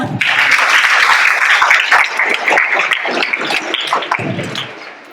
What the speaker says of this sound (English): Let's take a moment to welcome them with a huge round of applause.